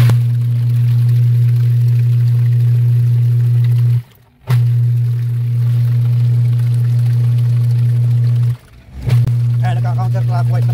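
An Astron single-tub washing machine's pulsator motor running counterclockwise with a faulty wash timer, a loud steady hum that stops briefly twice.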